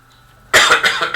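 A person clears their throat once with a short, loud, rasping burst after a moment of near silence, followed by a couple of smaller catches.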